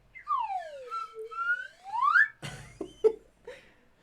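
A slide whistle swoops down and back up in long, bright gliding tones, followed by several short sharp honks and squeaks, loud and close, with no speech.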